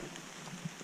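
Rain falling through trees in misty woodland on a trail-running route in Normandy, a steady soft hiss of drops with a few brief patters, faint and distant.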